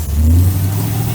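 A carbureted engine with a torn carburetor gasket and a big vacuum leak at the front revs up loudly and close, its tone climbing briefly before settling into a steady, rough high idle.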